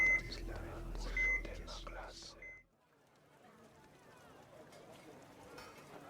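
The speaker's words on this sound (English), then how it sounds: "you hear the beep of hospital equipment" Hospital equipment gives a few evenly spaced electronic beeps under soft speech, then the sound drops to a quiet, hissy background.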